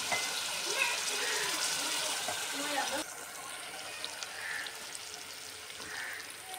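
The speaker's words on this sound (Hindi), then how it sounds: "तो मैं इसमें तीन गिलास पानी डालूँगी" Water from a glass is poured into a pot of rice that has soaked for half an hour, giving a steady splashing pour close by that eases off halfway through.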